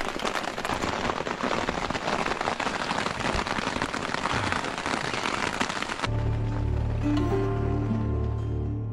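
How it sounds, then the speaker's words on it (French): Rain falls on a shelter tarp as a dense, steady patter for about six seconds, then the sound shifts to a softer, lower drumming with hum-like tones, close and moderately loud, no voices. "on va attendre que la pluie elle passe en fait"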